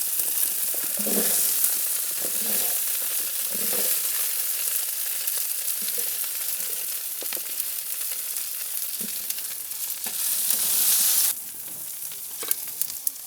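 Potatoes and herbs go into a pan on the grill, giving a continuous loud sizzle with a few soft thumps and scrapes as pieces drop in, then a quieter stretch with light clicks, no talking.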